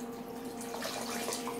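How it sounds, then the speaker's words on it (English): About a gallon of water pours into a pot of bone broth, a soft, continuous rushing splash that swells slightly partway through, fairly quiet and with no voices. "I'm going to add about a gallon to this pot"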